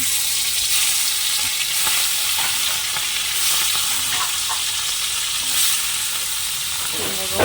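Small morola fish fry in hot oil, a loud, continuous hissing sizzle with bursts of spitting and crackle and occasional stirring scrapes, close up throughout.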